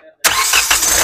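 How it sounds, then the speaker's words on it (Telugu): A 2017 Hyundai Creta E Plus starts on a single crank. After a moment of near silence, the engine catches abruptly and settles into a loud, steady running note close by. "సింగిల్ సెల్ఫ్ లో కార్ స్టార్ట్ అయితే ఎటువంటి స్టార్టింగ్ ట్రబుల్ అయితే లేదండి"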